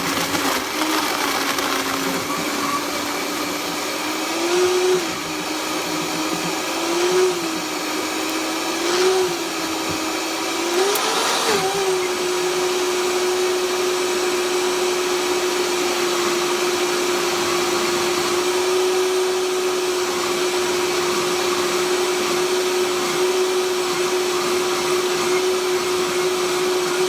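A countertop blender, not a Vitamix, whirs loudly and continuously as it blends a smoothie with ice, its motor pitch wavering through the first seconds before settling into a steady high drone, near and alone.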